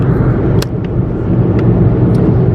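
A Mitsubishi Mirage cruising on an Alberta highway gives off a steady, loud cabin rumble of road and engine noise, with a few faint clicks over the continuous drone.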